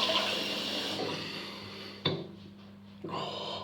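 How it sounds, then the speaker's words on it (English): Tap water running into a sink for a cold rinse after a shave, a steady close splash that cuts off abruptly, pauses briefly, then resumes. "Right, we're done. Cold rinse."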